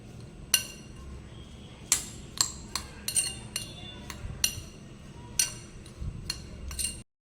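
A spoon clinks and scrapes against a bowl while ghughra sandwich filling with black pepper powder and fresh coriander is mixed, giving a dozen or so sharp metallic taps at an uneven rhythm over faint room noise.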